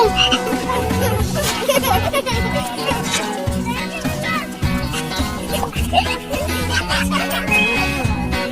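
Repeated frog croaks sound close by over a busy background of children's voices and chatter in a school classroom.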